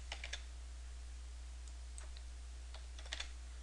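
Fingers tap out a few short bursts on a computer keyboard, light and close, with quiet pauses between keystrokes over a steady low hum.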